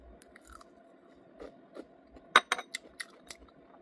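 Crunchy spicy chicken tenders being chewed up close in a mukbang, with soft crackling bites and a cluster of louder crunches in a quiet room.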